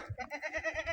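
Goats bleat inside a village shed in Punjab, a close, quavering run of rapid wavering cries lasting about a second.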